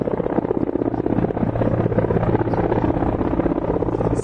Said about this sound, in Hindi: ये जो MI हेलीकॉप्टर देख रहे हैं आप, इससे ड्रॉप किया जाता है